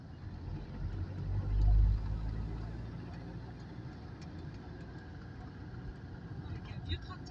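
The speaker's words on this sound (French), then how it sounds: "Avec un vieux tracteur" Old tractor engine running outdoors in France, a low steady rumbling drone with a louder swell early on, under faint background sounds and occasional light clicks.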